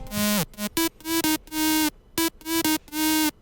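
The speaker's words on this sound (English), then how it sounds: "It's basically a really distorted mono saw sound," A harsh, buzzy distorted mono saw synth plays a short monophonic future house melody of choppy and held notes, loud and abrasive, alone.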